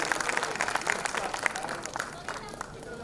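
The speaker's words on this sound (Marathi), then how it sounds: "तर कृपया थोडशा टाळ्या मिळाल्या तर बरं वाटेल." Audience at an annual gathering clapping, a moderate run of scattered hand claps from a crowd, steady at first and thinning toward the end, with voices in the background.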